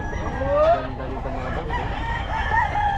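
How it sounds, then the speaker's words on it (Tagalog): A rooster crows nearby at an open-air market in Bocaue, standing out over a murmur of people and background chatter. "Manok Kanabong ni Boss Batang."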